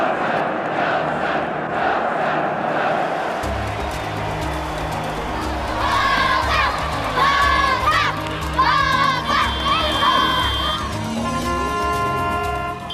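A rugby stadium crowd, mostly white, chants a player's name and cheers in celebration of a triumph, a broad roar of many voices with rising rhythmic chant phrases over a low constant rumble.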